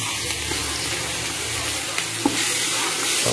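Ginger garlic paste fries in a hot pan of oil for chicken biryani, a dense, close, steady sizzle with a light stirring scrape or two near the end.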